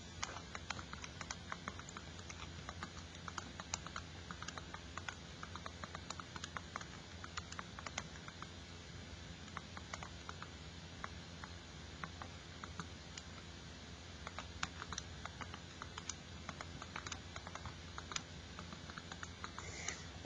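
Keys on a calculator keypad tapped at a steady, quick pace while scores are entered, a long run of faint, close clicks with no talking.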